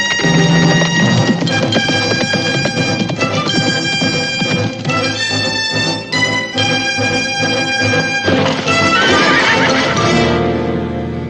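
A horse neighs loudly in a frontier Western setting, its whinny rising in bright, harmonic bursts over a full, dense background that runs the length of the clip.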